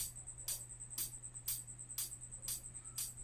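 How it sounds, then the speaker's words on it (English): Open hi-hat hits from a drum machine repeat on a steady beat, about every half second, each a bright sizzling splash ringing out over a low hum. "Open hats is this sound right here."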